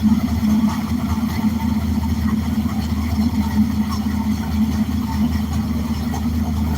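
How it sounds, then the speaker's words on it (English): A steady American V8 engine idling with a low, even rumble, loud and continuous throughout with no break. "Nothing beats American V8"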